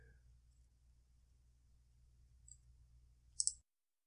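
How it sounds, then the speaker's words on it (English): Mouse clicks on a software OK button, a faint single tick followed about a second later by a sharp, close double click over a low steady hum, with no speech. "I'm then going to click the OK button."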